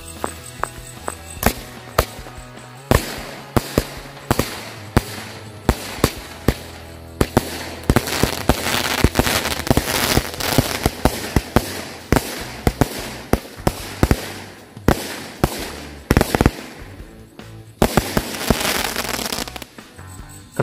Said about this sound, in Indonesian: Sudah berhasil menyala teman-teman. Kita hasilnya mercon The Hobbit.